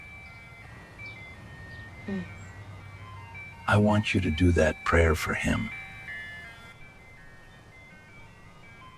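An ice cream truck jingle plays faintly and steadily in the background throughout, its thin melodic tones running under a brief stretch of talking in the middle.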